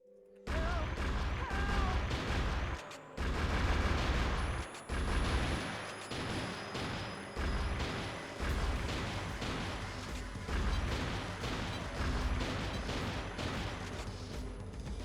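In the arcade light-gun game Vampire Night, a training round of rapid fire and reloading gives a dense run of quick gunshots and impact crashes, with short pauses for reloads.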